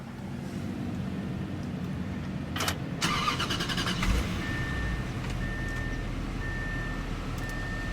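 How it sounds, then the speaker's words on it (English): A 2014 Bentley Mulsanne twin-turbo V8 starts with a short crank and catch, then settles into a steady low idle rumble alongside a faint repeating electronic tone. "Beautiful melodic note from that twin-turbo V8."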